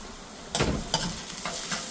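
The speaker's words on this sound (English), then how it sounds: "Give it all a good mix. You don't want those spices to burn." Ground spices including garam masala, chili powder, turmeric and cumin stirred in hot oil for a balti, a short close sizzle with a few sharp scraping stirs.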